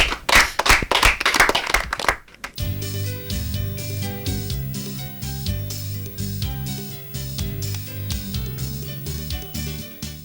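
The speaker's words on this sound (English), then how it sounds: "A round of applause for them again, please." A quiz-show audience bursts into loud, dense clapping for contestants for about two seconds before it cuts off and gives way to music carrying on for the rest.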